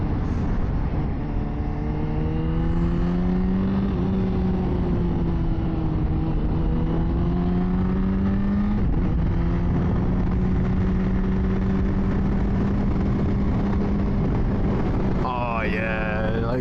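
A 2024 Honda CBR600RR engine hums steadily through corners on a practice ride, its pitch rising and falling with throttle changes amid constant wind roar, with a brief higher-pitched rev near the end.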